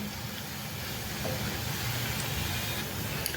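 Cabbage bhaji fritters frying in oil over a medium gas flame, a continuous dense hiss and bubbling sizzle, steady and fairly close with no talking.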